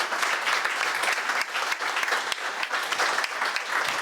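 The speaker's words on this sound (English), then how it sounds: "Everyone, please, round of applause for these amazing photographers." Sustained applause from an audience honouring photographers at an evening event, dense steady clapping for the full stretch with a few sharper individual claps standing out.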